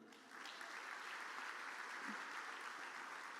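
A church congregation claps together at an evening family worship service, a steady wash of applause that starts abruptly and holds evenly, with no talking over it.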